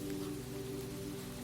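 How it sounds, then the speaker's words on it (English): Steady rain falling on a rainy night in Seattle, a constant even patter and hiss that holds level throughout, close and soft, with no voices. "The rain continued, steady and patient."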